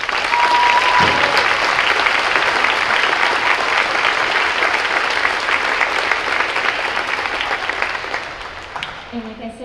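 A school audience applauds at a spring pops concert with loud, sustained clapping that swells and then gradually fades out near the end.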